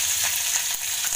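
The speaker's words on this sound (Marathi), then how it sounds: "मग मी मिरची घालणार आहे." Green chillies dropped into hot oil in a pan while making sabudana khichdi, giving a bright, steady close sizzle with soft crackles and no voices.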